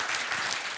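A conference audience at a steel-sector decarbonization panel breaks into applause, a short, dense burst of many hands clapping close together, heard alone.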